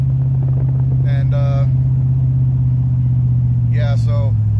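A truck tows a 1995 Caprice past, its loud, steady engine drone holding throughout while a voice speaks briefly twice over it.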